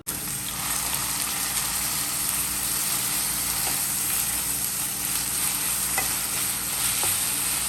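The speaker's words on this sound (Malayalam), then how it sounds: "ആ എണ്ണ ചൂടായി കഴിയുമ്പോഴത്തേക്കും നമുക്ക് ആദ്യം ഈ ഗ്രേറ്റ് ചെയ്ത് വെച്ചേക്കുന്ന ഇഞ്ചി അതിനകത്തോട്ട് ഇട്ട് കൊടുക്കാം" Grated ginger frying in hot coconut oil, a steady dense sizzle with a faint constant hiss running alone and evenly throughout, with a few soft clicks of stirring.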